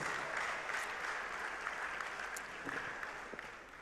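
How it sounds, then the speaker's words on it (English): Applause from a large crowd at the closing ceremony of Ghana Digital Innovation Week 2023, a continuous fairly distant wash of clapping that slowly tapers. "A round of applause to ourselves."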